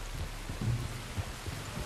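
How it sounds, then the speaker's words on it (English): Rain falling in Red Dead Redemption 2, a steady hiss of rainfall with a few soft low thuds underneath, heard alone without any talking. "You were right about the damn rain."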